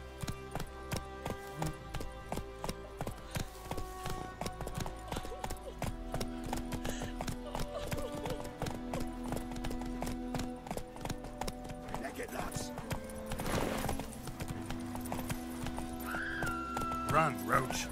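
Roach, a horse in The Witcher 3, gallops with rapid rhythmic hoofbeats that keep going throughout, and a neigh rises near the end while someone talks over the game sounds.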